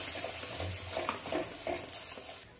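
A spice paste is stirred around a hot pan for a winter gorum bhat dish, giving soft, steady scraping and light sizzle with a few brief spatula strokes close by, no voices.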